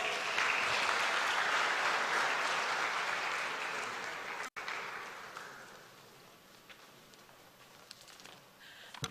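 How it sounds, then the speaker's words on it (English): Audience applause at a meeting between Ghana's President Mahama and CEOs of state entities: thick, sustained clapping from a roomful of people, loud at first, then thinning and fading after a brief cut in the middle. "Another round of applause."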